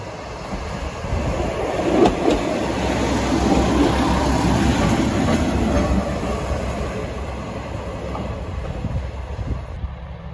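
A train on the JR Inbi Line pulls into rural Chiwa station in Okayama, a steady rumble of wheels and rail clatter rising, holding near and loud, then easing off as it slows, with no talking.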